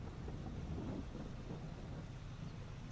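Steady rain and low rumbling thunder from the Farming Simulator 22 game fill the scene with an even, continuous wash of sound and no pauses.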